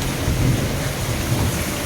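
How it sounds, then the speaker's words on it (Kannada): A night thunderstorm over a village home, steady heavy rain pounding surfaces with a low rumbling undertone of thunder and wind, no voices. "ಏನು ಗಾಳಿ ಮಳೆ ಸಿಡ್ಲು ಗುಡುಗು"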